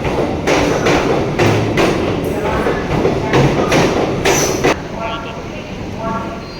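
A local train departs a station, rumbling and clanking with heavy thuds, moving steadily and loudly nearby, while people talk over it before the noise eases off.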